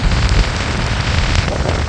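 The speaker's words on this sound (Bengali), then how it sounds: "বৃষ্টির পরিমাণ বাড়ছে" Steady rain falling during Cyclone Remal on the Bangladesh coast, a dense, continuous hiss of heavy drops mixed with wind noise, loud and unbroken throughout, with no voices.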